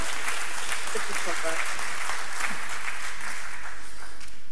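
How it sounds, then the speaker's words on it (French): Warm audience applause in a summit hall, continuous and moderately loud, with voices talking over it throughout. "On peut applaudir Marie-Francine, qui est très timide"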